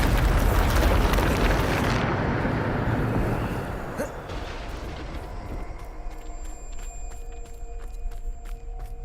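A Bombarda spell detonates in Hogwarts Legacy, a loud rumbling blast that fills the first few seconds, then decays into a lingering roar with a sharp crack near four seconds and faint magical chimes as it settles.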